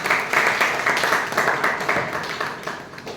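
An audience at a Toastmasters club meeting applauds a speaker, a dense and fairly loud wash of clapping that holds steady for a few seconds.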